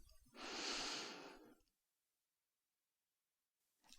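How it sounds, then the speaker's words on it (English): A single deep breath drawn in through the mouth, a loud close airy inhale lasting about a second, followed by silence and a faint start of another breath at the end. "you take a deep breath."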